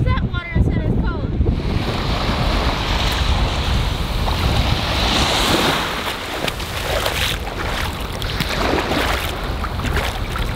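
Atlantic Ocean waves break and wash on a beach at Wells, a loud, steady roar of surf with strong wind buffeting the microphone throughout and faint voices in the background.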